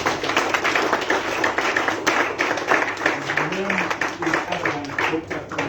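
Audience clapping steadily at a youth peace and tolerance event in Zimbabwe as a doctor approaches the podium, moderately loud with some talk mixed in.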